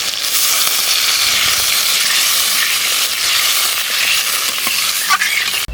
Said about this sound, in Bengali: আমি এখন জল দিয়ে দিচ্ছি।